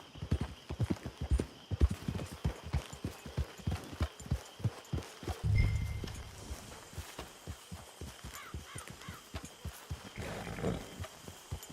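Horse hooves clip-clop in a steady walking rhythm in the Western video game Red Dead Online, close and clear, with a brief snort or whinny in the middle.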